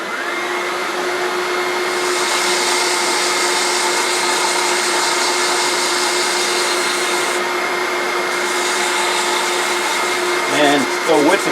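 Steady, loud whirring of a wood lathe spinning a wooden hair stick while it is sanded, a continuous broadband hiss and hum that holds evenly for about eleven seconds before the motor note sags and winds down at the end.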